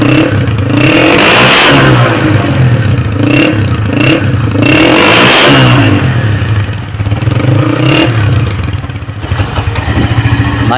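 A 2007 Honda CG 125 motorcycle's engine and silencer rev up and drop back to idle several times, loud and close, each blip swelling and falling in a clattery single-cylinder note.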